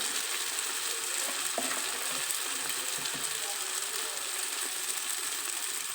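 Onions turned light brown sizzling in hot oil as spices go in for black chickpea curry, a constant crackling fry with occasional stirring scrapes, close and alone.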